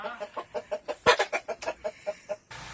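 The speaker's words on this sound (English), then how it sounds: "You got yourself a rooster." A rooster clucking in a rapid, even series of about a dozen short, close clucks, with one sharper, louder squawk partway through before the calls stop abruptly.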